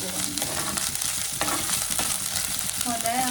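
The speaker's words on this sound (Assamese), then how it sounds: "জলকীয়া দি দিছোঁ আৰু কৰি পাত মানে নৰসিংহ পাত এয়া আদা নহৰু পেষ্ট ইয়াতে দি অকণমান লৰাই দিব" Chili, curry leaves and ginger-garlic paste being stirred in a hot pan with oil for a beans and moong dal dish, a steady close sizzle with scraping spoon strokes throughout and no voices.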